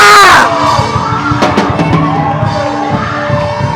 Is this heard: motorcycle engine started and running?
no